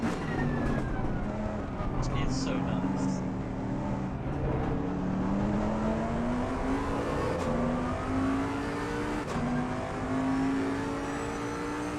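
Racing car engine with a W12, a Bentley in a video game endurance race at Spa-Francorchamps, droning and rising steadily in pitch as it accelerates, loud and continuous, with a brief voice speaking over it.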